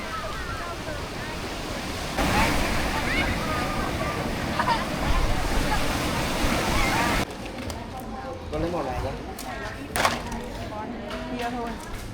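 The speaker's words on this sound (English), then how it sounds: "The beach is suddenly much more crowded than in the morning" Afternoon surf rolls onto a crowded beach in Vietnam, a loud wash of waves and wind that drops to a quieter stretch where people chatter in the background.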